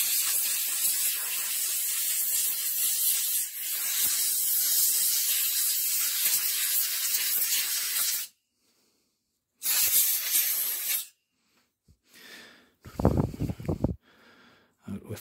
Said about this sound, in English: Now I'm going to blast all that rubbish out a bit.